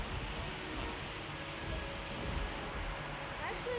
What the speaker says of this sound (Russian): Идет сильный дождь, который появился просто ниоткуда.